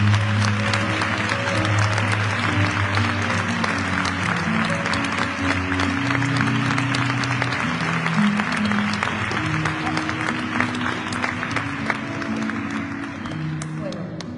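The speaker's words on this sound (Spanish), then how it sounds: "Un aplauso para todos ellos." Steady, dense audience applause fills a copla and flamenco peace and solidarity concert, sustained and loud throughout with a faint tonal hum beneath.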